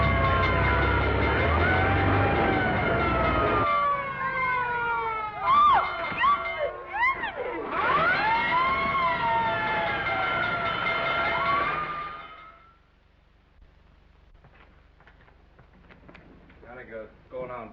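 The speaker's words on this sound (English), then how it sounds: "looks as if I finally get my ride on a fire engine." A fire engine's siren wails in rising and falling sweeps over a rumbling engine for about twelve seconds, then cuts off, leaving quieter background sound with faint voices.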